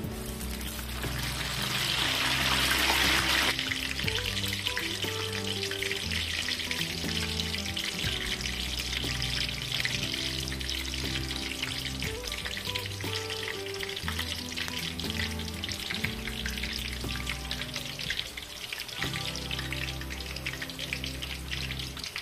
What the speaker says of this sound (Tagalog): talsikan natin ng konting tubig.